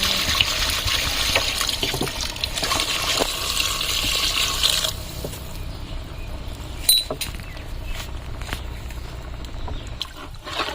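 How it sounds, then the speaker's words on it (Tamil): Water poured into a pot of quail curry for village-style quail biryani, a steady broad splashing pour for about five seconds that then trails off into quieter sloshing and a few faint knocks. "தண்ணி ஊற்றிக்கலாம்."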